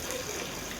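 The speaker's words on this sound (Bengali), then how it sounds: "ভালো করে ধুয়ে নিই, কারণ কি পালং শাক তো এতে অনেক মাটি থাকে।" Running water gushes steadily over spinach leaves being washed to rinse off soil, a close, continuous splashing flow with no talk.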